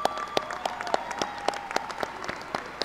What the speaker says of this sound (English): let's give these fine folks a round of applause